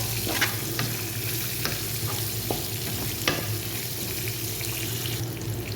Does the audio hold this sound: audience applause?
no